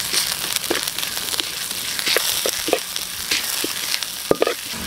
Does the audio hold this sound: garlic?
yes